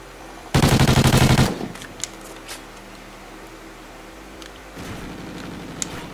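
Vector submachine gun firing in the video game Call of Duty: Ghosts, one loud rapid burst of about a second, then quieter game sounds and a second, softer burst near the end.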